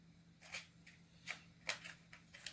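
A deck of tarot cards being handled and sorted back into order, with soft papery flicks and slides coming in scattered bursts, close and quiet, with no talking.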